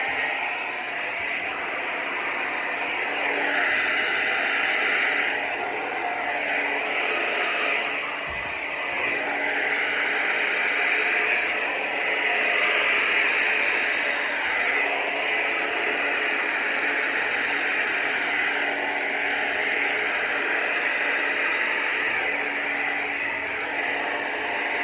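Steady broadband hiss of an air blower pushing white resin pigment across a wet acrylic pour painting, continuous and fairly loud for the whole stretch with slight swells, no talking.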